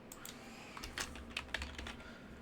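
Soft, close keyboard typing on a computer, a short burst of quiet irregular keystrokes over faint room hum, no speech.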